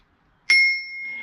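A single close ring from the handlebar bell of an Engwe electric bike, with 7-speed Shimano gears, sounding alone: one sharp ding whose tone lingers and slowly fades.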